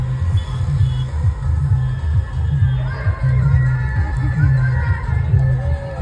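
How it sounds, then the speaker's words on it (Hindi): A dense festival crowd at Ganesh Chaturthi by Moti Dungri temple in Jaipur, a loud continuous murmur of voices and shouts over a throbbing low drumbeat. "चलो भाई ये देखो भीड़"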